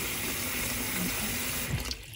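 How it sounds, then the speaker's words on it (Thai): Warm water runs from a kitchen tap into a bowl of cauliflower mushrooms, a steady close rushing hiss that stops just before the end, with no talk. "เปิดน้ำอุ่นใส่จ้ะ น้ำอุ่นจากก๊อกนะคะ"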